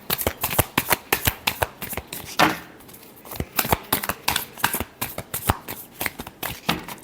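Tarot cards being shuffled by hand in a rapid, even riffle of crisp flutters and taps, close and loud, with a brief pause partway through.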